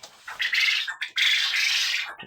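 Quails in a heated coop give loud, harsh squawking calls in two close bursts separated by a short break, with no talking over them.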